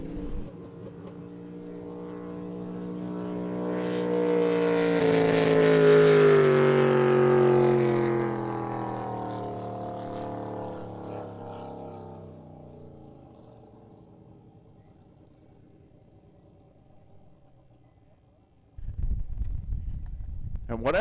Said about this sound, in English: I heard the motor knock, knock, knocking